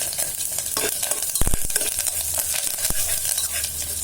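Urad dal, chana dal, chillies, cumin, pepper and curry leaves fry in hot oil as a tempering for puliyotharai, giving a steady close sizzle broken by a few sharp scraping stirs of a spoon against the pan.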